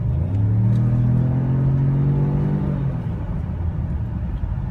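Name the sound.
turbocharged SUV engine accelerating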